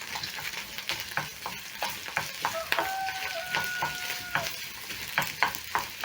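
Sausages and a small chopped shallot sizzle in a frying pan while being stirred, with a continuous crackle broken by regular scraping strokes and light clinks.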